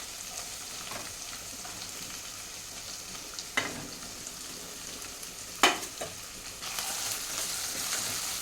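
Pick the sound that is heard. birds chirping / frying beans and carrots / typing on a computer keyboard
frying beans and carrots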